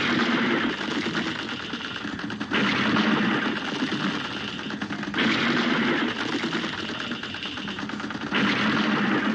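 Rapid, continuous shooting from the Cuphead run-and-gun video game, a dense loud rattle of blasts with game effects in repeated bursts, no talk over it.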